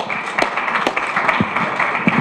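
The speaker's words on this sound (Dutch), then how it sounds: "Dik applaus." A conference audience applauds, many hands clapping in a dense, uneven patter that stays fairly close and loud throughout, with no voices over it.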